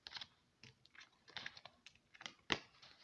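Oracle cards are reshuffled by hand in a quiet room, giving a series of soft, close papery riffles and taps with one sharper snap near the end.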